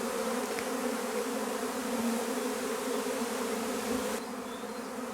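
A honeybee swarm just out of its hive fills the air with a dense, steady buzzing drone, many bees flying overhead at once, continuous and fairly loud with no voices.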